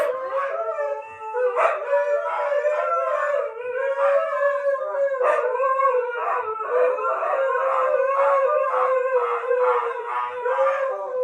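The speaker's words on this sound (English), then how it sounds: "Does anybody else have Siberian Huskies? This is Husky life." Several Siberian Huskies howl together in a continuous, wavering chorus with overlapping yips, close and loud throughout.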